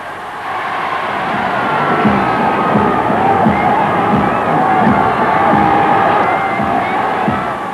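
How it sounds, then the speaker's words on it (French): A huge archival crowd cheers Hitler on the Heldenplatz in Vienna, a dense sustained roar of many voices rising and holding, with shouting in the mass. "Une foule énorme accueillit Hitler sur la Heldenplatz, la grande place de Vienne."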